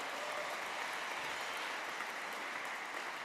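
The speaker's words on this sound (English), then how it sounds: "How about another round of applause for Ray" Audience applause at the 2024 Australian Museum Eureka Prizes award ceremony, a steady, dense wash of clapping filling the hall at an even level throughout, with no voices over it.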